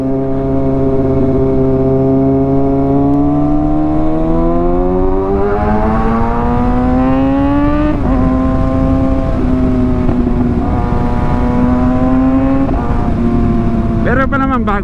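A big bike's exhaust revs loudly and steadily, its tone climbing and settling in long sustained pulls, with a short crackle of popping near the end.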